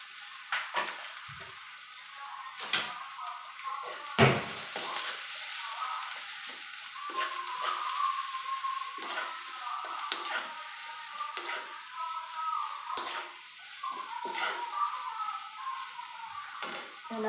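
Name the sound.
chopped onions frying in oil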